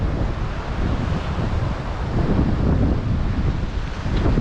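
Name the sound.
ocean waves coming in with wind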